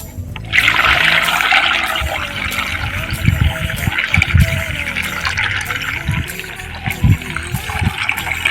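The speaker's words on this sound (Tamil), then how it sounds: "இருக்கிற மீதி தண்ணியை ஊற்றிருங்க" Water pours in a steady, rushing stream for several seconds into a weedkiller mix, fairly close and loud, with low knocks and bumps beneath it.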